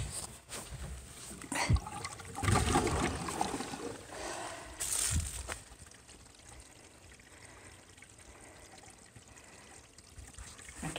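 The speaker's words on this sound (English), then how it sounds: "I can hear the water running" Water runs and trickles through the pipes of a household water system under repair, a soft continuous flow with gurgling bursts early on, settling into a quieter steady rush.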